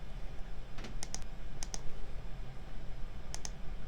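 Sharp computer clicks come in a few quick clusters, some doubled, over a low steady hum, close and without talk.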